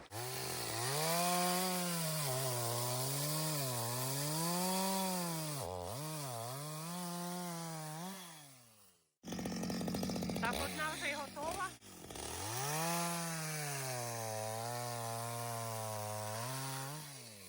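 Chainsaw cutting old oak wood for bench legs outdoors, a loud close engine whine that bogs and rises as it bites, stops briefly, then restarts and cuts again.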